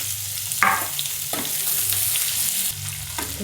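Onion, tomato and garlic sautéing in a pan for chutney, a close steady sizzle broken by a few sharp stirring scrapes of the spatula, with no voices.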